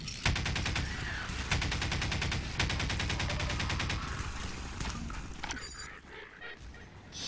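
Rapid bursts of automatic gunfire fill the Half-Life 2: Lost Coast video game, with a dense, evenly spaced rattle of shots that continues for several seconds before thinning out into quieter game noise.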